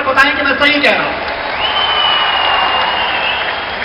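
Crowd at a political rally in Indore claps and cheers steadily after a speaker's call, with a voice talking briefly at the start and a long whistle-like tone over the applause.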